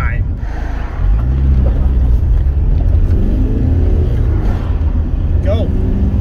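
A Rover 75 with an L-series diesel accelerating under turbo boost, a loud steady engine drone from inside the car pulling strongly, with someone talking over it.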